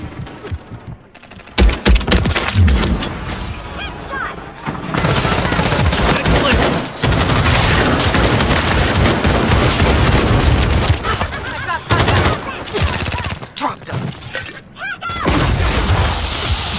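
Sustained automatic gunfire and scattered heavy shots rattle through a first-person shooter firefight, loud and dense, with brief pauses and bursts of impact noise, while players shout over the shooting.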